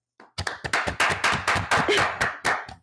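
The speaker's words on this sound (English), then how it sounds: "Clap." A single person claps a quick run of about a dozen sharp, close hand claps, slightly uneven in rhythm, at the start of a podcast episode.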